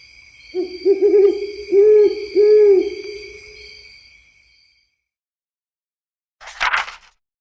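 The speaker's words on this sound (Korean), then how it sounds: "부엉이는 원래 밤에 깨어 있어요." An owl hoots in a toddler's bedtime story: three rounded, mellow hoots close together early on, trailing into a fading tail, with a short breathy rustle near the end and no talking.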